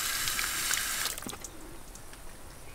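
Water spraying and hissing out of the leaking end of a brand new soaker hose in a hoop house garden, a loud splashing rush that drops to a softer trickle partway through, close by.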